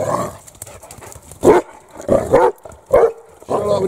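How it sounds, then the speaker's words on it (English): A dog barks several times nearby in the woods in short, irregular bursts, with gaps of quiet outdoor background between barks. "Shut up with the barking, Bear."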